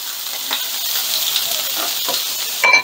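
Garlic and serrano peppers sizzle steadily in a hot pan for fried rice, a close, even hiss with faint stirring scrapes and a louder clatter near the end.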